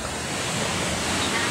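Sea surf washing into a rocky sea cave on Samal Island, a steady broadband rush of water that stays loud and continuous throughout with no clear individual wave breaks.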